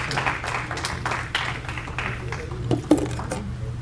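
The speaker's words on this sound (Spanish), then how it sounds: "Por favor, un aplauso." A patriotic breakfast audience gives scattered, uneven applause, the claps moderately faint over a low steady hum.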